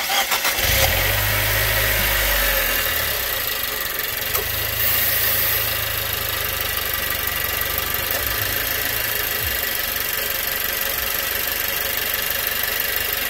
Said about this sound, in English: So now we're gonna start her up.